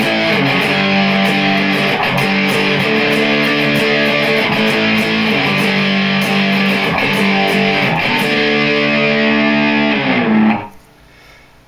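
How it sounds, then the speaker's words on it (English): A heavily distorted electric guitar, played through a distortion pedal on its middle setting, plays thick sustained chords steadily for about ten seconds, then cuts off, leaving a faint hiss. "here we go to the middle setting on the distortion"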